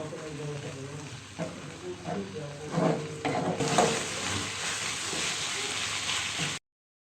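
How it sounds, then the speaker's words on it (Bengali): Ginger and garlic paste fries lightly in a pan for a goat-meat curry. Stirring scrapes come first, then a steady close sizzle swells and holds before cutting off abruptly, with faint talking early on. "এখন আদা এবং রসুনটা আমি হালকা একটু ভেজে নিব যাতে এর কাঁচা গন্ধটা চলে যায়"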